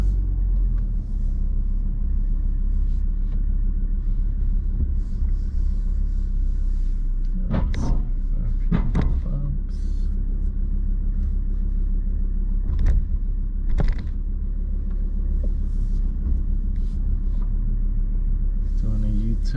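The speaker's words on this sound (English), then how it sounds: "Doing a U-turn in the car park." A 2021 Ford Ranger PX3 4x4 makes a U-turn in a car park, its engine a steady low rumble from inside the cab, with a few brief knocks and thumps over the drive.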